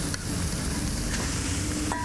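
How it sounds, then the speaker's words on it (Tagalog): Shredded duck meat sizzling in hot oil with onion and garlic, a steady close frying hiss with faint stirring scrapes throughout, no voices. "Mantika, sibuyas, saute lang natin, then garlic."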